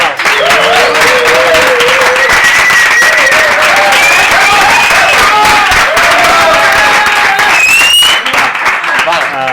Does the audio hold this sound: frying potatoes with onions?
no